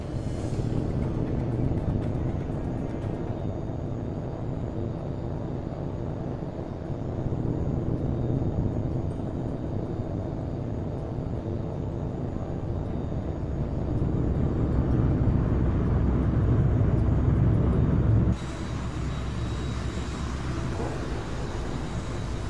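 A jet aircraft takes off in the video game H.A.W.X 2, its engine giving a continuous loud roar that swells mid-way, then drops sharply into a brighter, steadier rushing tone.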